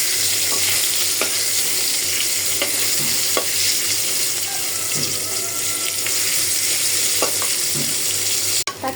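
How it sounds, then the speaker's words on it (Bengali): Taki fish coated in turmeric and salt fries in hot oil, a loud, continuous close sizzle with scattered small pops and clicks and a sharp knock near the end. "মাছ ভর্তার জন্য হলুদ আর লবণ মাখিয়ে আমি টাকি মাছটা ভেজে ফেলি।"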